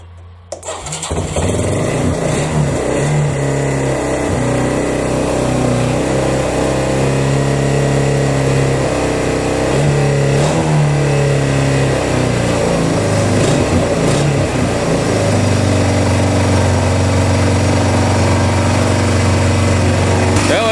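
A Yamaha Bruin 250 ATV engine, just cleaned of plugged carburetor jets and jump-started with cables, fires up and settles into a loud, steady, close idle that runs continuously with slight changes in pitch.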